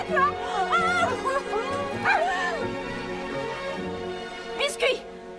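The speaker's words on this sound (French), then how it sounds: "Évidemment, t'es un chien." A dog yips and whimpers in a few short, high bursts, close by and mixed in with people talking throughout, with a brief sharper outburst near the end.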